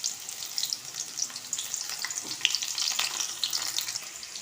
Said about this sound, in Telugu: ఆయిల్ అయితే వేడైంది. ఆనియన్స్ వేసేద్దాం. అలాగే పచ్చిమిర్చి కూడా.